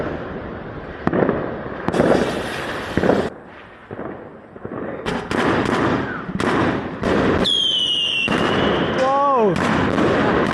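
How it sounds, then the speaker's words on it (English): A large firework goes off in the countryside at New Year: a volley of loud, close bangs and crackling bursts, then a rising whistle near the end. People talk and exclaim over it. "This is the biggest firework we've got."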